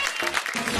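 Audience applause for a contestant at a televised dance competition, a short dense burst of clapping with no voices.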